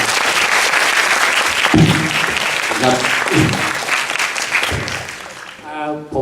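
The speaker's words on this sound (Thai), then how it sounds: "ขอขอเสียงปรบมือให้ทีมงานที่จัดงานนะ" Audience applause for the event organising team fills the room, a loud, steady wash of clapping throughout, with someone speaking briefly over it and again near the end.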